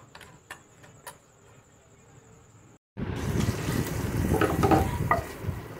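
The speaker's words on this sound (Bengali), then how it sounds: "দেখো চিংড়ি মাছগুলো হালকা ফ্রাই হয়ে গেছে।" Prawns for a malai curry fry in a pan: a quiet clattering start, then after a brief gap a louder, dense sizzle with stirring scrapes close by.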